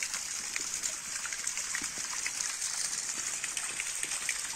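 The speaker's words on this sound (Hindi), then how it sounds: "बुलंदी से पानी गिर रहा है और नीचे एक छोटा सा तालाब बन रहा है।" Water pours from a height at Samrala waterfall into a small pool below, giving a steady, dense rushing hiss that stays close and even throughout, with no voices.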